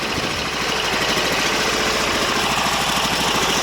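Briggs & Stratton 20 hp V-twin engine running on a Sears Suburban loader, a steady, loud, continuous rumbling idle with a rhythmic low pulsing throughout.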